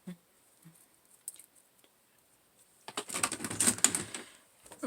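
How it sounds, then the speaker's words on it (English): Heavy-duty pinking shears cutting fabric, a short close burst of crunchy snipping after a few faint clicks and near silence. "I've got my pinking shears."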